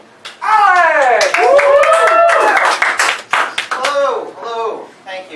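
Audience at an open mic night clapping for a performer, a loud burst of applause with cheering and whooping voices, then scattered claps tapering off.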